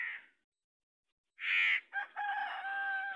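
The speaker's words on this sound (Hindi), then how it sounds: "हाँ तो यार देखें अभी दोबारा जवाब देगा मुर्गा।" A rooster crows on an early morning walk through a vegetable-growing area, a brief call followed by a fuller drawn-out crow, clear and fairly close with no talk over it.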